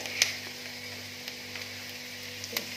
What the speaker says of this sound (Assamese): তেলটো পুৰা গৰম হৈ যোৱাৰ পিছত মই অকণমান পাঁচফোৰণ দিছোঁ আৰু পিঁয়াজখিনি দিছোঁ আৰু জলকীয়া দিছোঁ